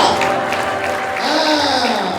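A church congregation claps together during a worship service, a steady wash of many hands under a raised voice and tonal accompaniment.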